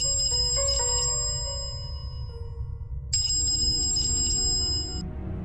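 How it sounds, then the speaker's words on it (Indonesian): A home telephone rings in two electronic bursts separated by a short pause, each a bright, trilling tone over a quiet background. "tiba-tiba telepon di rumah itu berbunyi"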